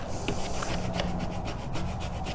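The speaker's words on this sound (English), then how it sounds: "Squeegee it down." A squeegee rubs down Oracal 651 vinyl transfer tape on a gift bag, making a steady close scraping, rasping friction sound with a few light taps, heard alone with no talking.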